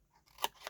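Scissors cutting paper for a shaker box: two quick, faint snips close by in a quiet room, with no voices.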